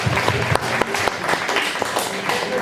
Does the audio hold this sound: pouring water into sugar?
no